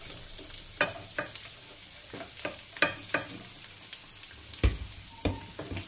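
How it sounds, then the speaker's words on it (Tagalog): Garlic fries in oil in a pan, a faint, soft sizzle punctuated by several distinct taps and scrapes of a utensil, one louder knock near the end, with no speech. "So, ipapride muna natin yung garlic."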